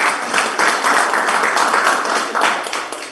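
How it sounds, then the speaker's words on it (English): A startup pitch breakfast audience applauds the four presenting companies, a brief burst of many hands clapping at moderate loudness that swells slightly and then starts to fade. "let's give a big round of applause to all 4 companies that presented today."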